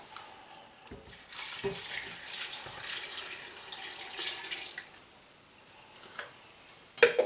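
Tap water runs into a cooking pot while Franconian Blaue Zipfel brine is prepared, a steady broadband rush that continues throughout with small clatters and a sharper knock near the end.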